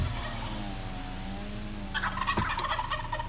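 Wild turkeys on Dudley Road in Billerica, Massachusetts, gobbling in a loud rattling burst near the end, heard over a steady idling car engine close by.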